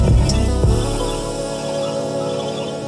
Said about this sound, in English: What was that chirping the whole time?